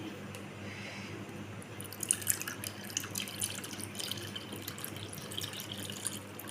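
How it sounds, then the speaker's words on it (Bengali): Milk being poured into a one-kilogram clay yogurt pot while making homemade yogurt: a steady, soft liquid trickle with light splashy drips, continuous and close. "যে আমি এটার মধ্যে ঢেলে দিচ্ছি, দইয়ের পাতিলটার মধ্যে।"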